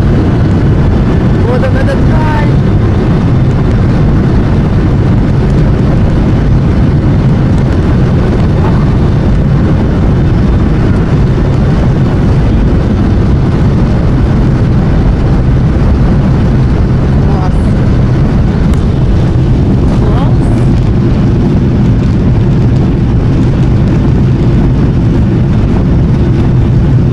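A loud, steady roar of jet engines and cabin rumble as an airliner accelerates for takeoff fills the whole stretch, heavy and constant, with a voice speaking faintly underneath.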